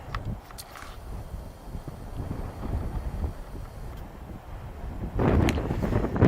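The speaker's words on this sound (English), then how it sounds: "The wind has picked up." Gusty wind on Mt. Adams near Bird Creek Meadows buffets the microphone with a steady low roar that swells louder toward the end, with no voices.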